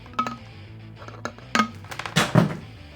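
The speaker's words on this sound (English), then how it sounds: "That was my phone." A phone sounds in an airbrush painting workspace with a few short tonal beeps, like keypad or notification tones, amid clattering clicks and small knocks, fairly close, with no talking.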